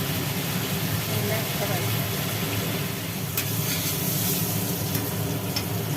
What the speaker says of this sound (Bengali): আচ্ছা ঠিক আছে পটলগুলো ভাজো পটলগুলো ভাজা হোক